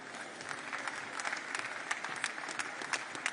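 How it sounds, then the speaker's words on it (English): An audience at a live event with the OpenAI CEO claps steadily, a dense patter of many hands heard from a short distance without a swell or cheering. "You can applaud him."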